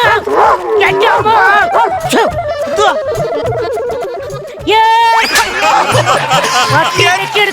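A small Rajapalayam dog yips and whines in short, excited bursts close by, mixed with people talking and laughing.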